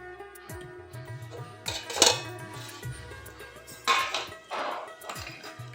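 A metal lid is set onto a cooking pan of banana-stem and poppy-seed curry on a gas stove. Two distinct clinks ring out, with soft kitchen clatter in between.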